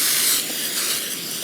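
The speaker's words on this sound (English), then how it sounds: "So now we can water in that soap" Water sprays steadily from a garden hose onto a lawn treated with soap as a cheap wetting agent for dry patches, a broad close hiss that is loudest at the start and then holds level with no voices.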